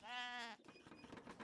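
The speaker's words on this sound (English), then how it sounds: "Can eat these sheep and immediately replace them with another batch." A single sheep bleats in Age of Empires III, a clear wavering tonal call lasting about half a second. Faint game sounds follow after it.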